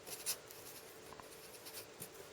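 A pen writes by hand on paper during a chemistry molecule-modelling lesson, faint scratchy strokes and taps coming in short bursts, quiet and close with no talking.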